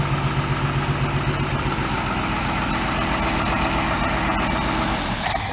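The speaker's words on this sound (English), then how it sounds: "So we'll run her through the RPMs." Repowered OMC Cobra 4.3 engine in a 1990 Four Winns 180 Horizon boat, running steadily loud and close, revving through its RPM range with a continuous droning rumble throughout.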